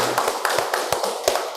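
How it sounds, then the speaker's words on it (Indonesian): Short burst of classroom applause, a handful of sharp irregular hand claps in quick succession, close and fairly loud. "tepuk tangan"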